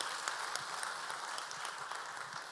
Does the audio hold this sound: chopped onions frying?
no